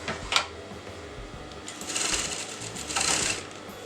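A sewing machine stitches a folded piece at a kurta neckline, with two short bursts of steady, fast mechanical whirring after a single sharp knock, close by and without talk.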